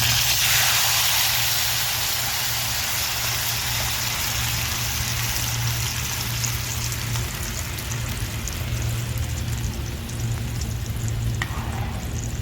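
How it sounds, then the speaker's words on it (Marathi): Tomato broth hits a hot tempering of oil, mustard seeds and curry leaves for tomato saar, setting off a loud, continuous sizzling hiss that holds steady at close range for the whole stretch, with no one speaking. "तर आता इथं टमाटरचा रस्सा आहे तो मी घालून घेते फोडणीला"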